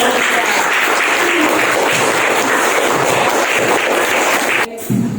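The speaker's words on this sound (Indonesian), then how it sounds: "terima kasih untuk kelompok 3, tepuk tangan" A classroom claps for a group presentation, loud sustained applause from many hands close by for about four and a half seconds before it stops abruptly.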